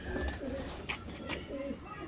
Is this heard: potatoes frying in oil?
no